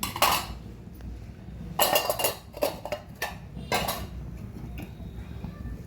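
Cut green chillies being dropped into a metal jar while carrot rasam is being made, with several sharp bursts of clattering and clinking separated by quieter gaps over a low background rumble.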